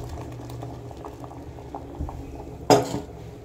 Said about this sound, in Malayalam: അതൊന്ന് അങ്ങോട്ട് തിളച്ച് നല്ല പോലെ കുടുകുടുന്ന് തിളച്ച് കഴിയുമ്പോൾ